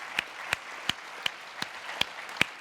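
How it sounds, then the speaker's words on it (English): Slow, evenly spaced individual claps, about seven sharp hand claps in a steady rhythm, at an onstage conversation event with the humorist Andy Borowitz, heard over a quiet room. "let's give Soledad a round of applause for coming up with something positive to say"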